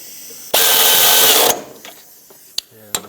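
A power tool or ratchet runs in one steady, loud whir for about a second while snugging a bolt on a 2006-2011 Chevy HHR radiator, followed by a few sharp metallic clicks and clanks.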